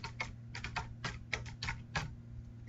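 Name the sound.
typing answers on a computer keyboard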